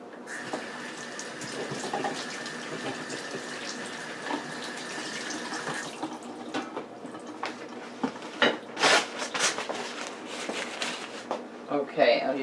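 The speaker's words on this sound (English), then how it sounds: "Let me wash my hands" Hands are washed under a running kitchen tap, with a steady stream of water close by for several seconds, followed by splashes and handling noises as the flow ends.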